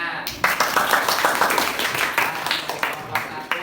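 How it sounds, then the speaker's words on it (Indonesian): A classroom audience claps after a presentation, a few seconds of scattered, uneven handclaps with voices murmuring underneath. "Tepuk tangan."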